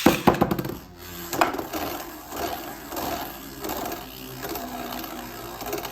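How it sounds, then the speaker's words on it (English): A Hasbro Beyblade Burst Spryzen S2 top, fired from a string launcher, clatters and scrapes in a stadium with sharp early impacts, then settles into a steady rattling whir that continues alone to the end. "using my Beyblade Burst String Launcher, LR. Okay, 3, 2, 1, let it rip."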